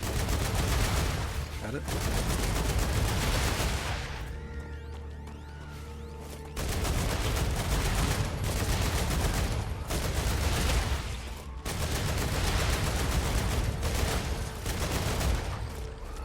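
Rapid automatic gunfire fills a StarRupture sci-fi shooter, loud and continuous in long bursts broken by a brief lull, with a voice briefly speaking over the shooting.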